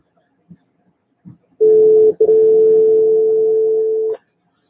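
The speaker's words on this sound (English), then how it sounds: "Dial tone now." A telephone dial tone hums steadily and loudly from a handset after a few faint clicks, briefly interrupted once and then stopping cleanly.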